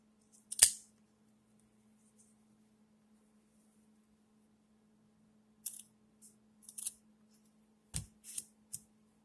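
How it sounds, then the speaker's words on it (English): Scissors snip through bulky fabric while ripped ribbing is repaired: one sharp cut early, then a quick cluster of several close, crisp snips near the end over a quiet low hum. "I'm gonna cut the bulky fabric"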